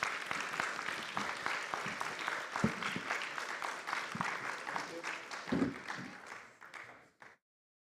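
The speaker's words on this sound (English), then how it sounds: "A round of applause for all my panelists." Sustained audience applause for the panel at a civil society summit session on financing for development, with dense clapping at steady volume that fades out near the end.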